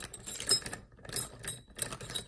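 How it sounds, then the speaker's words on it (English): Keys for a Yale Superior lock jangle close by in three quick bursts separated by short pauses. "Here's the keys."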